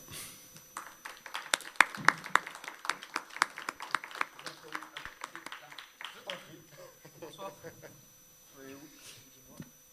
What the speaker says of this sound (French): je vous demande d'applaudir Monsieur Garcin